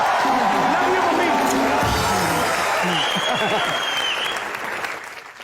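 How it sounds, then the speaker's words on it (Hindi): A studio audience at a comedy show breaks into loud, sustained applause with a few cheers. Voices talk over the clapping, which thins and fades near the end. "मेरी माँ के लिए एक बार जोरदार तालियां"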